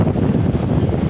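Storm-force wind buffets the microphone by the sea in Sochi during a hurricane, a loud continuous low rumble with surf mixed in, no talking.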